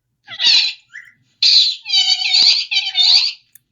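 A parrot mimics human speech in a series of squeaky, high-pitched, voice-like bursts, about four phrases with short pauses between them, close and loud.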